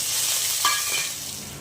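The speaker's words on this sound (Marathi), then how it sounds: "सर्वात लास्टला आपण भेंडी भाजून घेऊया" Okra fries in a hot pan, giving a steady close sizzle with a brief stirring scrape partway through, no voices.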